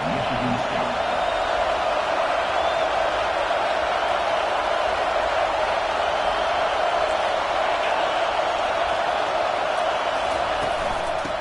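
A dense, steady roar fills a football stadium as the crowd keeps up a loud, continuous din at first and goal, with no clear breaks.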